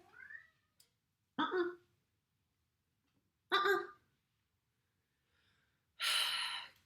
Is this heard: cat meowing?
yes